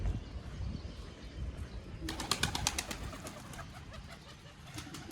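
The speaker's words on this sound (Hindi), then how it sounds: "ये ऊपर से निकल के आया कबूतर, ये बैठ रहा है दोस्तों" A pigeon flies in and lands nearby, a short burst of rapid wing flaps and fluttering that trails off against faint outdoor background noise.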